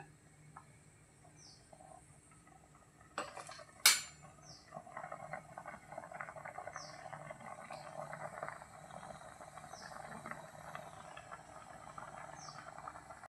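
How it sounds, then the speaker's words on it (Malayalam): Washed fish tipped into a hot cooking pan gives a couple of sharp clatters, then a soft, steady sizzle that runs on quietly. No one speaks. "ഇനി അതിലേക്ക് നമ്മൾ മീൻ വാരിയിടാം"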